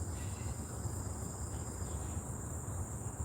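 A steady, dense insect buzz fills the air continuously, fairly quiet with a constant high drone and no voices.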